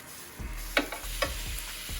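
Food searing on a Ninja Foodi grill fitted with GrillGrates Sear N Sizzle plates: a steady sizzle broken by a few sharp clatters and scrapes as the food is flipped, close and moderately loud.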